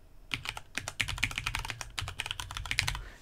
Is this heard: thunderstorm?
no